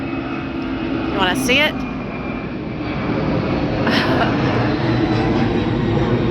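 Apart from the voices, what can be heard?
airplane flying overhead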